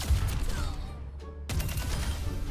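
A rocket weapon skin's secondary fire in Overwatch 2 sounds as loud, dense explosive bursts with a brief near-silent gap, then another heavy blast and rumbling fire.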